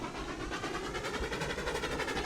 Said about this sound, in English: Not a coal train, a log train